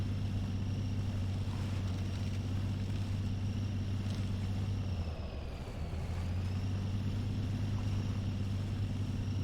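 Truck engine in the MudRunner off-road game, driving through dangerously deep water: a steady, loud low drone that sags briefly midway before resuming, with no talking.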